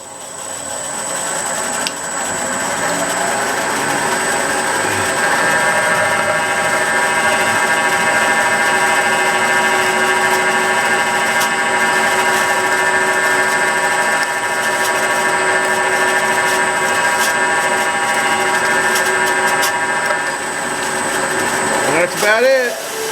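A steady power-tool whine runs almost continuously, loud and close, with a brief rise and sputter near the end.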